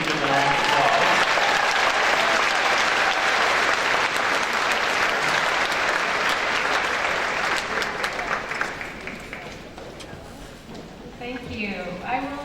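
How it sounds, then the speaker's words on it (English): A large crowd applauds at a college convocation ceremony, loud sustained clapping that gradually softens near the end as a voice begins to come through. "Please give a round of applause."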